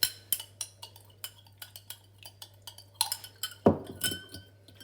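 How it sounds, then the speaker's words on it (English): A spoon stirs a heaped tablespoon of sugar into water in a glass, giving a run of quick, light metallic clinks against the glass, close and clear, with a busier burst of clinking near the end. "and we'll start stirring again"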